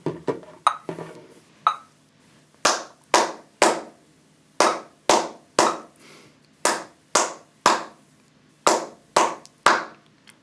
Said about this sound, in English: we'll clap that with the metronome